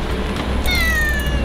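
A cat meows once with a rising then falling whine, close and fairly loud over steady low outdoor rumble near the Haboro Line area.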